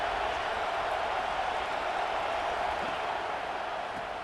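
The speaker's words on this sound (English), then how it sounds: "And here comes the noise. This crowd is trying to inspire this defense to make a big red zone stop." Stadium crowd roar in a college football video game, Alabama at Penn State, a dense continuous wash of cheering and noise building for a red zone defensive stand, loud and unbroken.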